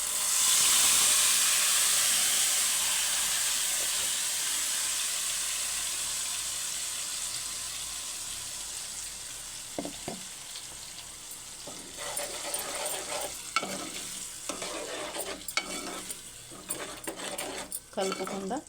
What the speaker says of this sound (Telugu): మనం మిక్సీ పట్టుకున్న టమాటా వేసుకుందాం